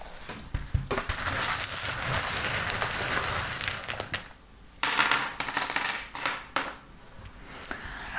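Small metal charms tipped out for a divination reading, a long bright jangling clatter that rises and spills for several seconds, then a few shorter rattling shakes and clinks, with no talk.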